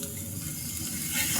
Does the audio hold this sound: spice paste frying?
yes